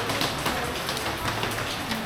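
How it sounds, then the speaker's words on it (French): Rain pours steadily on an island after days of wet weather, a dense close hiss of drops striking surfaces with scattered louder taps, no voices. "Ça fait 3 jours qu'il pleut"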